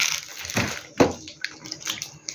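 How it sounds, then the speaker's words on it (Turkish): Tap water runs steadily as someone washes their hands at a sink, a close, continuous hiss broken by a few brief splashes and knocks. "Ben ellerimi yıkayabilir miyim rica etsem?"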